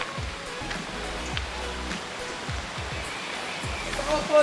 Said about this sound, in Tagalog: Ayun na, falls na yan, oh.